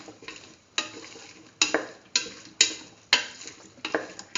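Chayote and cauliflower stirred with tomato chili sauce in a hot pan, a spoon scraping in repeated sharp strokes about every half second over a steady close sizzle.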